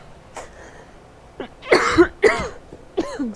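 Several sharp coughs in bursts, close and fairly loud, with a quieter catch near the start and a final cough near the end; no speech around them, spoken during a Dragon Age game session.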